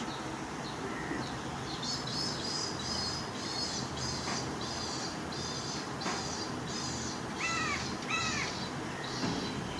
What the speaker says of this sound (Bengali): চারপাশে শুধু পাখির কিচিরমিচির ডাক আর নীরব একটা ওয়েদার